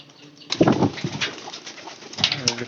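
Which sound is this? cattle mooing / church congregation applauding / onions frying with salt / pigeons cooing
pigeons cooing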